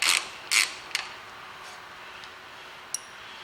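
A bolt is worked out of the rear brake caliper of a 1979 Citroen CX, giving a few short, quiet mechanical ratcheting bursts and isolated clicks close by, then near silence.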